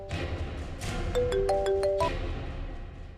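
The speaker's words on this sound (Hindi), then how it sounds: "मेरा एक कॉल आया है" A phone's melodic ringtone chimes for an incoming call, a short run of bright electronic notes playing clearly over a low background hum.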